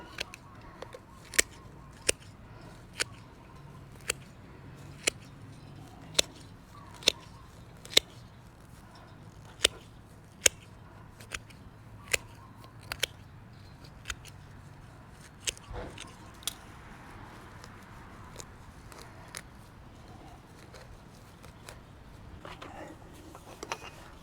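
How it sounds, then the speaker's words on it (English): Hand shears snip grass around a lawn sprinkler head, making crisp, sharp clicks at a fairly regular pace, about twenty cuts in all, close by over quiet outdoor background. "This is a pair of shears that I got off of Amazon. It's pretty good at cleaning up around sprinklers. A couple snips."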